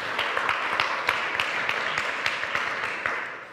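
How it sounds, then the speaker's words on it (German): Audience applause during a church service, a steady wash of many hands clapping at moderate distance, sustained evenly for a few seconds before easing off at the end. "Applaus dem Mann."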